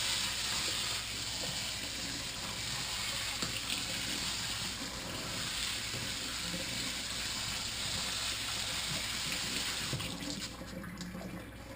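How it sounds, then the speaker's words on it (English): Steady running water pours over rice being rinsed and strained in a pot, a continuous close splashing wash with no talk. "Okay, so got my rice here. Just gonna strain it out. Give it a little bit of a rinse down."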